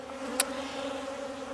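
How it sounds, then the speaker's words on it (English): Bees buzz around beehives on a farm in spring, a faint, continuous hum with one brief louder pass close by. "as you can tell, there's bees all over the place"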